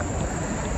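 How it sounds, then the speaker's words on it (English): Crickets chirp in a dense, continuous trill on an early morning university campus, filling the air evenly and fairly loudly with no voices. "You can hear the crickets chirping still."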